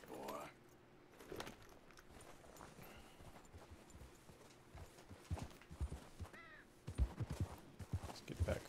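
Horse hooves clip-clopping in the video game Red Dead Redemption 2, a steady run of soft thuds under a busy game soundscape, growing louder toward the end.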